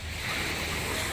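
Sea waves wash continuously along a beach shore, producing a steady surf hiss and rumble at low level with no clear voices.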